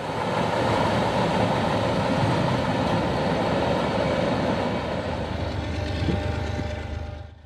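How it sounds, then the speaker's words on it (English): Oil train rolling through a railroad interlocking near the Willard terminal in Ohio, a loud, continuous rumbling roar of engines and wheels that holds steady and tapers off at the end. "After the oil train clears the interlocking, an eastbound manifest gets underway."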